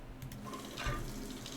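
In the video game Stationeers, a shower runs with a faint, steady hiss of spraying water and a soft mechanical chugging underneath.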